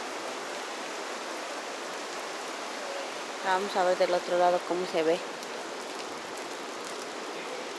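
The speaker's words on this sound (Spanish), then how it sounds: "No manches, nunca había yo visto un río así tan crecido." A swollen river, flooded after heavy rain, rushes in a loud, continuous roar throughout, with someone briefly speaking over it midway.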